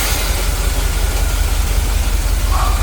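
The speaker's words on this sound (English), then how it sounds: "Idling really nice." A 1974 Corvette Stingray engine idles with a steady low exhaust rumble and even pulsing, loud and close, without any talking.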